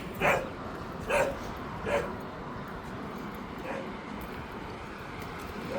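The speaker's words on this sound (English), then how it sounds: "A little security dog action." A security dog in a rural village in Pingtung, southern Taiwan, barks outdoors at a moderate distance, giving about four separate woofs in a loose, irregular rhythm over steady background ambience.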